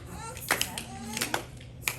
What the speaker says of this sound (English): Can you show me how you clap?